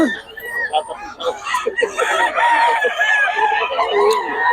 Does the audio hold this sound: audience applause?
no